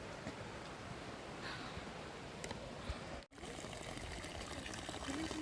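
Waterfall water rushing beside the trail to Bhagsunag temple in McLeodganj, heard as a steady, dense roar that fills the whole clip, with a brief dropout partway through.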